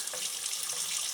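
Hot water pours steadily from a tap into a pot, a continuous broadband splashing rush that runs unbroken and fairly loud throughout.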